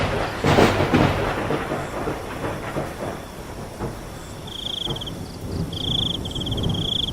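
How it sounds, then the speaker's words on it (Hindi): Heavy rain roars steadily through a stormy night, with a deep rumble of thunder early on and a thin high whine entering later. "बाहर तेज तेज बारिश और बिजली कड़क रही होती है।"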